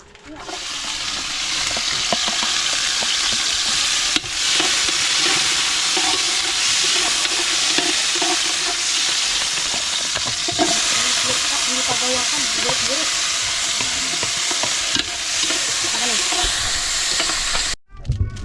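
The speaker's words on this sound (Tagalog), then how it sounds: "gigisahin na natin yung bawang para sa ating sopa" Steady, loud sizzling of garlic sautéing in a hot pan for soup, with occasional stirring scrapes and clinks, continuous until an abrupt stop.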